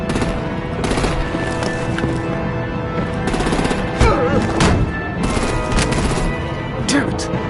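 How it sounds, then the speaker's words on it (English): Rapid bursts of heavy artillery gunfire in the Telltale Batman video game, continuous clattering volleys with a sharper blast near the middle, mixed under a busy battle soundscape. "Bring out the artillery and disable their vehicles!"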